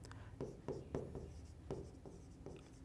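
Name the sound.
pen writing on paper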